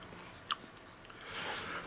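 Dry, crunchy roasted crickets and larvae being chewed close up, with a sharp crisp bite near the start followed by softer, steady grinding crunches.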